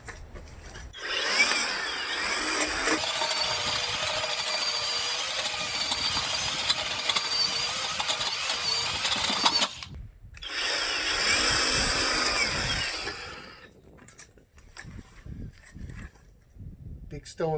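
An EGO electric cultivator tills stony soil with a loud, gritty whir of spinning tines that cuts out briefly, restarts, then stops. Scraping and knocking follow, and someone talks throughout.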